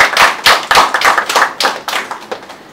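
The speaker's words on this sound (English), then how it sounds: "Can you please have a round of applause?" A small audience at a magazine launch claps, a few loud, uneven bursts of hand claps close by, pulsing in distinct clusters rather than a continuous wash.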